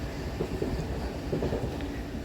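MEMU train running between Santragachi and Jhargram, a low steady rumble of the moving carriage heard from inside the coach, continuous and fairly quiet.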